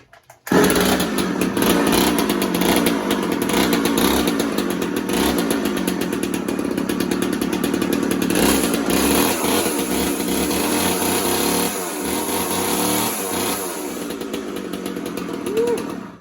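An Echo 280E chainsaw engine fires after a brief pause and runs loud and close at a steady, buzzing idle for the rest of the stretch, with a slight drop in level toward the end.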